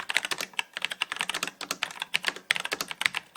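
Typing on a stock budget mechanical keyboard for beginners, a steady run of close, bright, clacky keystrokes with irregular rhythm and no talking.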